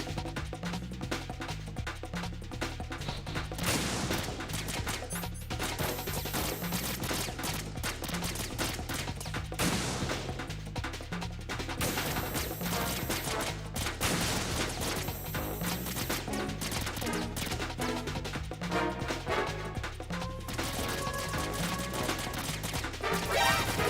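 Repeated sniper rifle shots from a PSG-1 in Metal Gear Solid 2: Sons of Liberty, loud sharp cracks recurring over a dense, continuous game soundtrack and ambience throughout.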